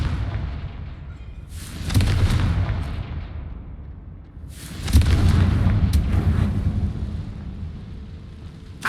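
Two loud Confringo spell blasts in Hogwarts Legacy, each a deep booming burst with a long rolling rumble, spaced about three seconds apart over a quieter background.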